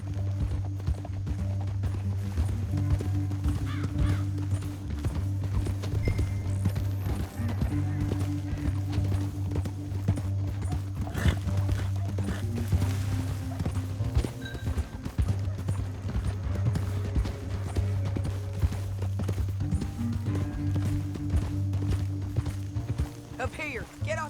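Horses' hooves clip-clop in a steady galloping rhythm in the video game Red Dead Redemption 2, under sustained low music, continuing throughout at moderate loudness.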